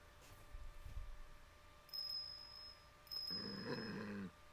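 A dog growls in the video game Ace Attorney Investigations: Miles Edgeworth, heard as low, rough bursts against a quiet background, with brief high jingling that fits the bell on its collar.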